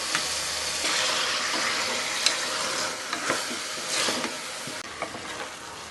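Chicken pieces hiss in hot oil and are stirred for a chicken curry, a loud continuous sizzle with occasional spoon knocks and scraping, close up.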